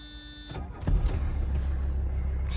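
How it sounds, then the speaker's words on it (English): A 1985 Mercedes 300TD diesel engine hot-starting: a short cranking burst, then the engine catches and settles into a steady, low diesel idle, close and continuous. "I just wanted to do a quick hot start and highway drive video from my 1985 Mercedes 300 TD"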